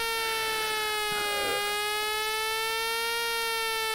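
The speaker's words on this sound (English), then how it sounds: "So we have to wait for this annoying siren." A video game air-raid siren sounds while defending London from UFOs: a loud, sustained electronic tone that holds steady and rings on alone for the whole stretch.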